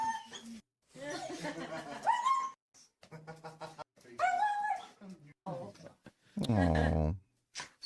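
A dog whimpers in a high, wavering whine near the end, following stretches of people talking and chuckling nearby.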